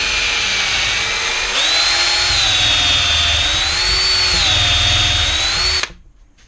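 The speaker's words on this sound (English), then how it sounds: "I'm just going to drill my hole in the center" A drill whines loud and close, boring a center hole with a countersink bit into a rough wood bowl blank; the pitch wavers steadily before the motor stops abruptly.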